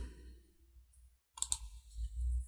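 A computer mouse clicks an OK button: a quick pair of sharp clicks that breaks a quiet, low background hum, with no voice.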